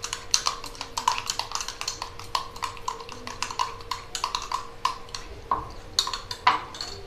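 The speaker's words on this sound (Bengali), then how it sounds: "এটা ভালো করে মিশিয়ে নেবো পেঁয়াজ আর ডিমটা।" Beaten eggs with salt and chopped onion are whisked in a bowl for a Kolkata-style Mughlai paratha, a steady run of clinking, tapping utensil strokes against the bowl, close and fairly quiet.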